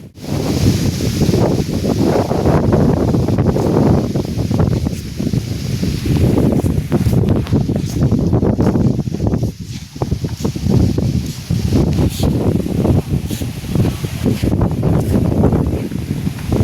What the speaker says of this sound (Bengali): দারুণ হাওয়া চলছে।